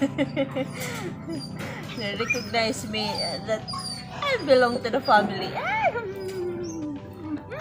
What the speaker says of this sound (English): So that's our dog.